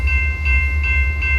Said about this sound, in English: Our first train of the day is westbound train 551. 551 is a stack train